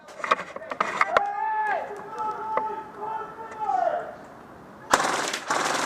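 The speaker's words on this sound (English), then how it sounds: "They're firing from the building there." Airsoft gunfire from a building at an airsoft skirmish: sharp, rapid pops in bursts, fairly close and loud, with a whistling tone and voices shouting around the shots.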